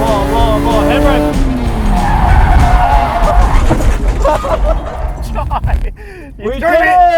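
A car drifting with the handbrake pulled, engine revving hard and tires squealing and skidding loudly up close, while people shout and talk excitedly over it.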